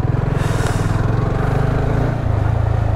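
A motorcycle is ridden in and parked, its engine a close, steady low pulsing putter that dips briefly near the end before settling back to idle.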